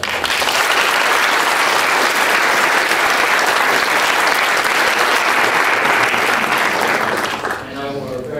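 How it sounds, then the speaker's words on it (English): Loud, sustained applause from a conference audience celebrating object detection and segmentation challenge winners, steady dense clapping for about seven seconds before it thins out and fades near the end. "So big round of applause for that."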